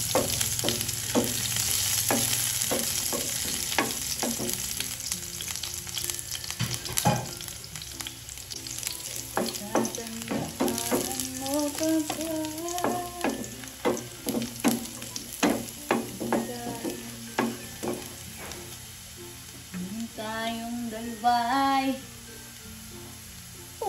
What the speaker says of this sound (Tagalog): lagay na po natin ang bawang.